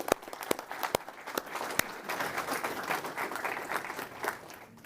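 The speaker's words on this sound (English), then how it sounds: "round of applause for our family members" An audience at the Department of Homeland Security Secretary's Awards ceremony in San Antonio, Texas, applauds family members, with a few sharp early claps before the sound thickens into steady, moderately loud clapping that carries on throughout.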